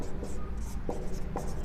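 A teacher writing a definition on a classroom board in a Sanskrit grammar lesson, short scratchy strokes in quick succession over a low room hum.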